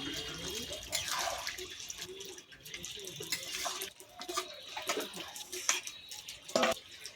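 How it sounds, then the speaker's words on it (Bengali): A little water is poured into a jackfruit chicken curry in a home kitchen, giving a soft, uneven splash and trickle with faint clinks in between, moderately close. "অল্প করে জল দেব"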